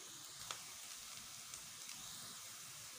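Onions frying in a pan over a medium flame for beef pasandy, a steady soft sizzle with faint crackles and a few small pops, no talk.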